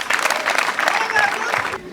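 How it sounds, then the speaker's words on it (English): An audience breaks into applause for a mother at a school ceremony, a dense, steady wash of many hands clapping close by for about two seconds before it cuts off. "Let's clap for the mother."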